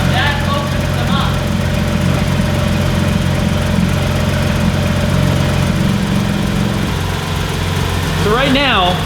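A Porsche GT3 RS with a swapped exhaust idles with its exhaust valves open, a steady, fuller low drone throughout, close and continuous, with a brief chirping sound near the end.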